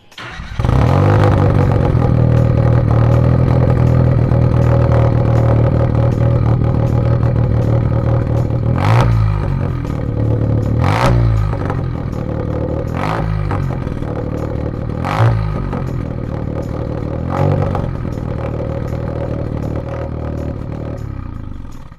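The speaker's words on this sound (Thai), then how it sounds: "พอสตาร์ทแล้วลองเล่งเครื่องดูแล้วเสียงมันจะดีกว่าเดิมไหม" A car engine, just serviced with a new ignition coil and spark plugs, runs steadily up close, then is revved in several sharp, evenly spaced bursts that rise over the continuous idle.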